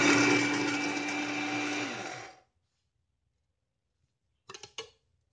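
An electric grinder whirs loudly for about two seconds on roasted whole spices and winds down into silence. A few short rattling bursts follow.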